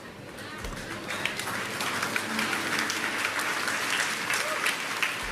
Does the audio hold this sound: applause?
yes